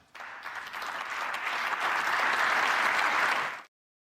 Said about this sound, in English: now he did get some applause there